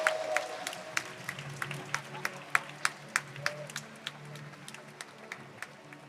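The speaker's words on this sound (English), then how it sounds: "Greeted with loud applause" Applause at a Rubik's cube world championship, sparse and fairly faint with distinct individual claps standing out in an uneven rhythm from a smallish crowd.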